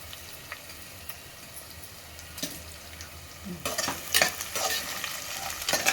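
Sliced onions fry in hot oil for chicken biryani while a spoon stirs them, giving a continuous sizzle broken by scraping stirs and clinks against the pan that grow louder and more frequent toward the end.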